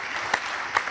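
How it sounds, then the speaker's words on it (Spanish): Audience clapping during a live interview event, a steady patter of many hands with two sharper, louder claps standing out near the front. "pues un aplauso para ella"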